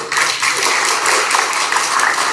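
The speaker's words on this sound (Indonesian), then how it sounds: "beliau tepuk tangan untuk beliau." A crowd at a gathering with Indonesia's agriculture minister and Papuan students applauding steadily, a dense wash of clapping that stays loud and even throughout the short stretch.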